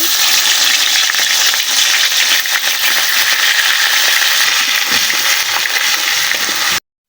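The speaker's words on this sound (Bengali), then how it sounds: "এইগুলো আমি তেলের মধ্যে দিয়ে সুন্দরভাবে আগে ভাইজা নিব" A paste of ground onion, garlic, ginger, cumin and green chili sizzles loudly in hot oil, a dense, constant hiss close up that cuts off abruptly at the end.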